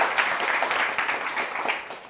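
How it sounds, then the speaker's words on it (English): An audience at a storytelling event applauds, a steady wash of many hands clapping at close range that carries on for about two seconds with no talking. "Let us give ourselves a big clap for being here."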